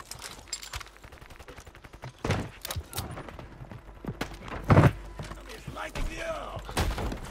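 Gunfire in the video game Call of Duty MW3, with scattered sharp shots and short bursts, some nearer and louder, over a busy background with occasional voices.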